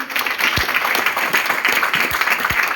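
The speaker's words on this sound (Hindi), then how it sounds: "जोरदार ताली होनी चाहिए।" An audience at a stage event in India claps steadily in a dense, continuous burst of applause, with no speech over it.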